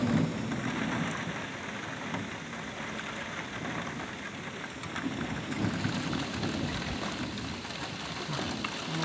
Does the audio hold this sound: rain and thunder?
yes